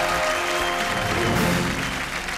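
A television game-show studio audience breaks into brief, dense applause, a steady wash of clapping that swells slightly midway and holds for a couple of seconds.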